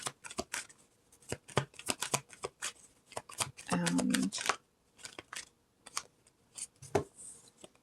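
Tarot cards are shuffled by hand, with scattered taps and flicks of cards around a short, dense riffling burst midway, close and crisp.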